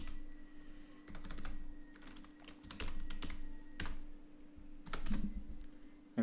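Someone types diskpart commands on a Windows 10 computer keyboard, giving quiet, irregular clusters of close key clicks over a faint background hum, with no speech.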